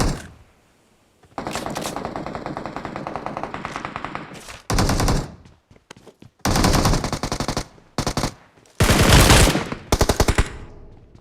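Gunfire in PUBG on the Livik map: long, loud bursts of rapid automatic fire in repeated volleys separated by short pauses, close and dominant, with no talking.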